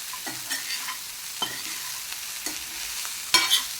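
Rice fried in a pan with spices and sweet corn sizzles steadily while a spoon stirs and scrapes through it, giving soft irregular taps and one sharper clatter near the end, with no talking.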